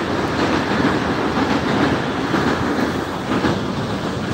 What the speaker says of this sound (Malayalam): ട്രെയിനാണ്, ഫുള്ള് ട്രെയിൻ.